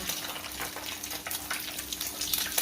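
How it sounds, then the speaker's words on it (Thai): Snakeskin gourami fish deep-fry in hot oil, making a dense, continuous crackling sizzle at moderate volume with no voices. "ทีนี้ก็ทอดไปเลยนะคะ"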